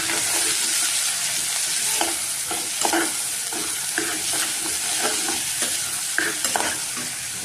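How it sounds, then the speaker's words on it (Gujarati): Chopped vegetables for Kathiyawadi veg biryani are stirred and fried in a pan, giving a constant close sizzle broken by repeated scraping and clinking strokes of the spoon. "આપણે જે શાકભાજી બધા સુધાર્યા હતા એ અંદર ઉમેરી દેવાના છે. અને સારી રીતના આપણે એને મિક્સ કરી દેવાનું છે."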